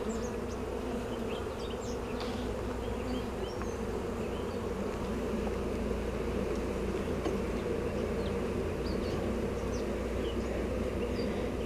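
Honey bees swarm around an open hive during an inspection, a steady close buzzing drone that fills the air without a break, with several individual bees whining past the microphone now and then.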